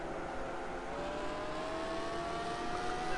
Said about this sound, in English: I know what this car sounds like. It sounds like the Corvette.